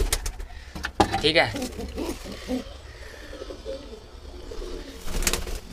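Pigeons coo softly nearby amid rustling and mechanical clatter as they are let out for deworming, and someone speaks briefly in Hindi.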